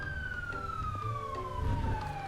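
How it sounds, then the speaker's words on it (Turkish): Police car siren escorting a vehicle in a Roblox game set in Southwest Florida: a single long wail sliding steadily downward in pitch over a low engine rumble, moderately quiet. "Evet önde bir polis arabası bize eşlik ediyor arkadaşlar."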